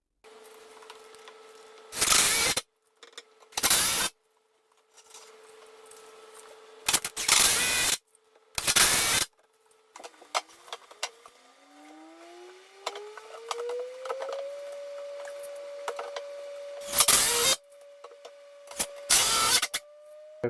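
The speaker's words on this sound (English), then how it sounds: "drill some 5-inch bolts through it" A power drill driving 5-inch bolts through a 3,000-gallon aquarium build, with several loud short bursts of grinding broadband noise separated by a steady motor whine that slowly rises in pitch under quieter handling sounds.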